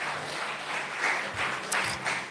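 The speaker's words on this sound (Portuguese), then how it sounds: "Você pode aplaudir ao Senhor bem forte" Church congregation applauding during a family worship service, a steady spread of clapping from many hands filling the room, moderately loud with no talk over it.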